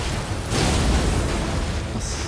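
A sword attack in Elden Ring PvP multiplayer sets off an explosion: a loud, sustained rumbling burst with a heavy low-end boom and noisy crackle, lasting about two seconds with no speech.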